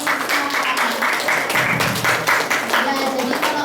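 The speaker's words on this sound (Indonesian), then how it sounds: "beri tepuk tangan sekali lagi" A school audience claps at a high school Indonesian-language practical exam performance. Dense, steady applause fills the room, with voices mixed in.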